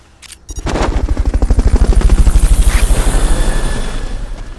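A Fulton recovery helicopter in Metal Gear Solid Peace Walker thuds close and loud, its rapid rotor beats pulsing steadily after a brief mechanical clatter, with no speech.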